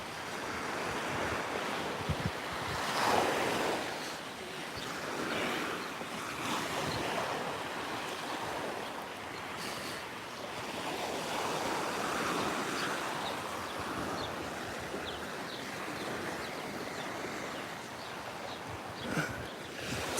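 Steady ocean surf rolling onto Waikiki Beach, Hawaii, a continuous broad wash of breaking waves with wind noise buffeting the microphone throughout.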